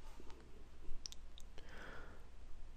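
A computer mouse gives a few sharp, quiet clicks over a faint steady background hum, spaced irregularly while web hosting software is being installed.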